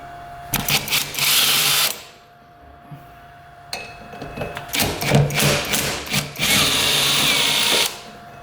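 An impact driver or power drill whirs in loud bursts as it spins a nut off a 1960s mini jet boat, with pauses, clunks of the tool and a longer final run close up.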